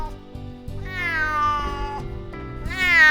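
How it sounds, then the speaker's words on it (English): A cat meows loudly and close by in a drawn-out series of yowls. The pitch bends up and down, with a final cry rising sharply at the end. "That cat is loud."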